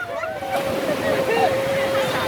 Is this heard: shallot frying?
no